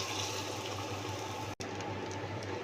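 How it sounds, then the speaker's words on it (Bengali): Strained milk poured into a pan of fried, spice-coated shrimp for a coconut prawn malai curry, a steady close liquid pour and sizzle with a brief cut partway through, no talk. "কষানো চিংড়ি মাছের মধ্যে দিয়ে দেবো এই ছেঁকে রাখা দুধ।"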